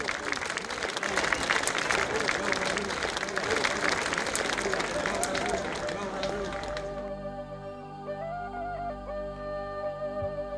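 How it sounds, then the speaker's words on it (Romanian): Loud audience applause at a Christian folk show in Sibiel greets a performer and his band, dense clapping for about seven seconds before the ensemble's music takes over. "Să-l aplaudăm!"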